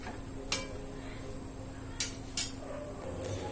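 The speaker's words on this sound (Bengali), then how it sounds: "এবারে দিয়ে দিলাম এই যে পাস্তা 250 গ্রাম। একটু ভালো করে নেড়ে দিই" A spoon stirs 250 grams of pasta just added to a pot of boiling water, giving a few sharp, scattered metallic clinks against the pot over a low steady hum.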